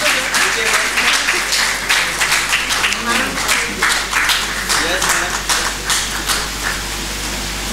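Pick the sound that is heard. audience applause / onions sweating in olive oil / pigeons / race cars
audience applause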